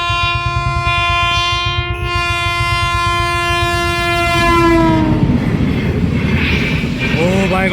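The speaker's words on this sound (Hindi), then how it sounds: "तो दोस्तों आ गई रेलगाड़ी" A high-speed train horn blares loud and sustained before dropping off as the passing railcars take over with a roaring clatter close by, a short burst of horn returning at the end.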